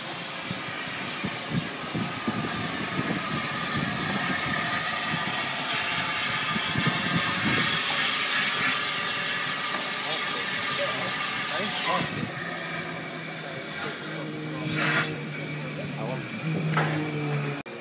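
A train pulls into a station platform on the Cyprus railway on an evening, a steady rumble and hiss with rising clanks and a long drawn tone near the end, heard close and continuous under people talking.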